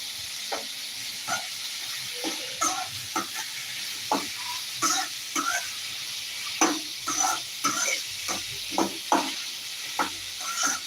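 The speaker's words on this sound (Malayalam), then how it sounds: "നന്നായിട്ട് ആ ഉള്ളി ഒന്ന് നമുക്ക് ഇളക്കി കൊടുക്കണം" Salted onions frying in a pan for chicken spring roll filling, soft hissing under a string of quick spatula stirs and scrapes, near and moderately quiet, with no voices.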